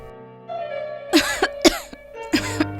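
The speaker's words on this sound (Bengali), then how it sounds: "তুই এত কাশছিস কেন বলতো?" A young man with a cold coughs in several short, sharp bursts, close and fairly loud, over a soft sustained musical background.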